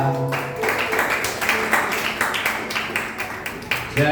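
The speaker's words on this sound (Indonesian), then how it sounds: "Beri tepuk tangan bagi Tuhan." A church congregation claps in praise to God during a service, a run of quick rhythmic handclaps with a pulsing, even beat, moderately loud and close, ending with a brief voice.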